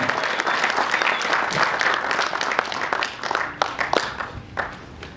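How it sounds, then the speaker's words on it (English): A crowd at a laboratory awards ceremony claps in steady applause that fills the space, gradually thinning into scattered, separate claps near the end. "A round of applause as he comes to collect"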